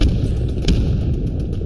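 A grenade detonates in a World War II infantry shooter, a single heavy boom with a brief crack over a low rumbling battlefield background.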